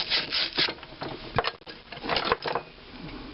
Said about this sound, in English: any hole that's on this thing right here will have the appropriate size wire brush run through it